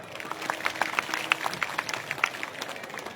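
An audience at a Buddhist Dhamma conference breaks into applause, with dense, overlapping claps that rise and fall steadily throughout and no voice over the top.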